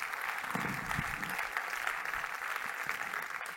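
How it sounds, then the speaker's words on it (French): An audience applauds the winners of the iLab grand prize at an awards ceremony, a steady wash of many hands clapping at moderate level throughout, with a few louder claps standing out early on. "vous pouvez les applaudir."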